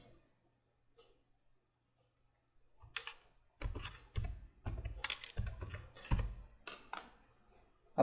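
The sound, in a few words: typing Java code on a computer keyboard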